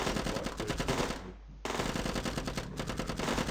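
Rapid machine gun fire in the video game Zombie Defense, dense continuous bursts that cut out briefly near the middle and then resume at full loudness.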